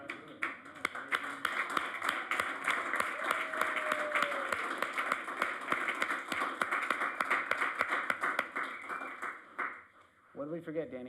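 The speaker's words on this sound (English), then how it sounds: "I think we should stand up and clap for him" A city council meeting audience stands and claps for a Little League coach and team mom, loud, sharp individual claps in a steady rhythm over a lively crowd wash, fading near the end as talk resumes.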